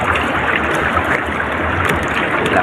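Strong sea current rushing past an underwater diver, a steady, dense broadband wash of water noise with a low rumble, close and continuous throughout without any talk.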